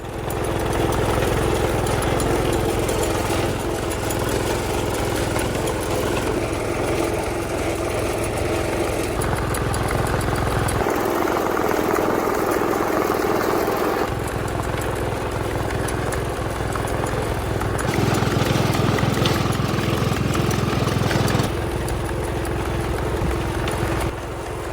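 Tractor engine running steadily through a spring ride across farm ground and brush, a continuous loud near drone that shifts in tone over the stretch, with no talking.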